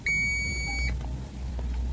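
A digital multimeter in continuity mode gives a single steady high-pitched beep lasting under a second while testing the normally closed contacts of a motorcycle dual headlight passing and high-beam switch, followed by quiet faint handling.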